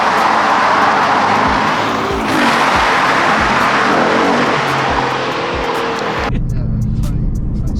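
A 5 litre Ford Mustang GT with 460 bhp on air ride accelerates hard and loud, its engine note surging through gear changes before dropping off sharply near the end.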